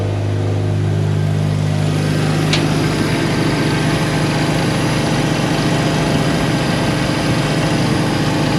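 A Mazda RX-7 FC3S rotary engine idles steadily and loudly nearby, a continuous low drone with a slightly uneven pulse and a faint brief click early on, and no one speaking.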